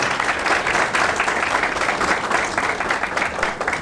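An audience at a lecture applauds steadily throughout, dense clapping from many hands at moderate volume with no voices standing out.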